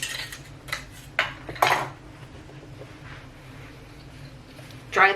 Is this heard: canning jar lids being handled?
yes